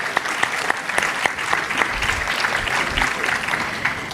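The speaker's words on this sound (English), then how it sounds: "Let's all give her a round of applause," Steady applause from a conference audience honouring a panel moderator at an actuarial summit, dense and sustained clapping throughout with a few sharper individual claps standing out.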